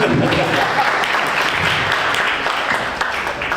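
An audience claps steadily and densely throughout, a sustained wash of many hands at a college chief-guest felicitation ceremony.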